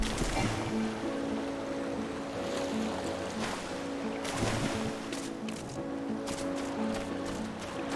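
Steady washing water and wind surround a character stuck in the water in Final Fantasy XIV, a continuous ambient wash with soft sustained background tones.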